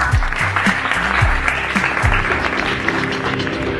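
Audience applause at a Navi Mumbai municipal cleanliness campaign event, a steady dense patter of clapping that holds for several seconds under a low sustained hum, with no talk over it.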